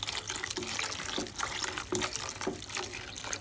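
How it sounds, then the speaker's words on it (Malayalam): Milk pours steadily into a pan of cooking carrot halwa, a continuous liquid splash and gurgle, close and moderately loud, with a few louder spoon-like knocks and stirring noises breaking through. No one speaks. "പാലൊഴിച്ച് കൊടുക്കുകയാണ്."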